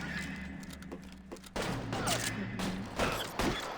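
Gunfire in the video game L.A. Noire: bursts of rapid shots, fairly faint, over game background noise.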